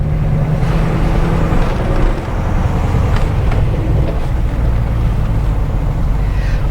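Corvette fitted with American Racing 2-inch long tube headers and a 3-inch Borla Atak cat-back exhaust, cruising, gives a loud, steady exhaust roar with a broad rumble that holds at one level throughout.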